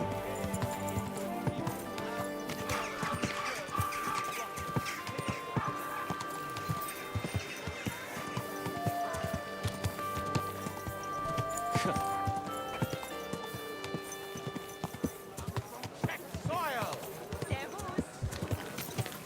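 Horse hooves clip-clop steadily and rhythmically through a trek in Kingdom Come Deliverance 2, continuous across the whole stretch with game music and ambience, someone talking over it.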